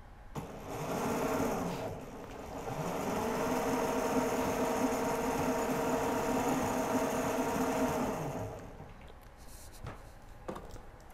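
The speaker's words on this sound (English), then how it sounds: "And then if Jackie hits the throttle lightly" The electric motor of the MelonKart robot kart from an MIT 2.007 class, driven on light throttle, whirs up twice in steady, buzzy runs for several seconds before cutting out.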